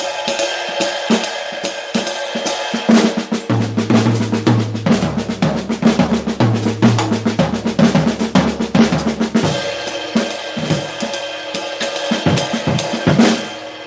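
Drum kit playing a swing beat with a triplet lick, a steady cymbal-driven groove with busier fills in the middle, played alone and close.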